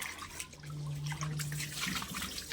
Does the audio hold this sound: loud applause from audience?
no